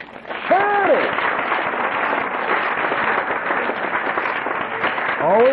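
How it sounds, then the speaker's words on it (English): An audience claps in sustained, dense applause filling a hall, steady and moderately loud for several seconds, with a voice speaking briefly at the start and again near the end. "Always thank you for applauding yourself."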